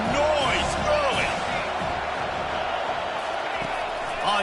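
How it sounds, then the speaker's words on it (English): Broad, steady stadium crowd roar at a college football game, a dense wash of cheering and noise with brief sharper peaks, heard under a commentator's voice throughout. "This crowd bringing the energy and noise early."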